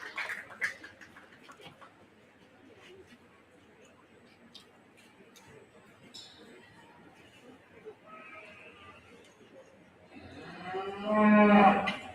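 Beef cattle at a 4-H county fair show low loudly near the end after a stretch of crowd chatter and scattered ringside noise, with a voice talking over the arena.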